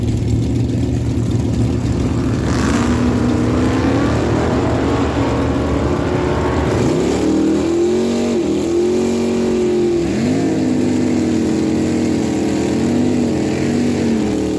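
A drag race between a 1969 Ford Torino and a 1983 Chevy S10: loud engines rev and roar continuously, rising and shifting in pitch through gear changes as the cars launch down the strip.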